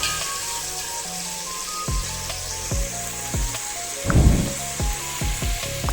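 Chopped carrot, beans, onion, tomato and slit green chillies sizzle steadily in a hot pan, with a few sharp clinks and a louder burst of stirring midway, no voices.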